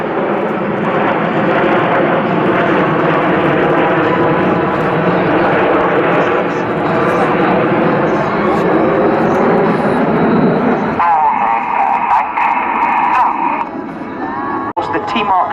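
RAF Red Arrows jets roar overhead in formation at the Luchtmachtdagen 2014 air show, a loud, sustained, broad engine wash that shifts and thins near the end, with an announcer talking over it.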